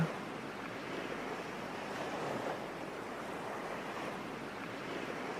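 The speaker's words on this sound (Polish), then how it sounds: "Poczuj, jak te fale, które szumią, przypływają i obmywają Twoje stopy." Ocean waves wash continuously onto a beach, a steady broad hiss of surf that swells gently and recedes, with no voices or other sounds.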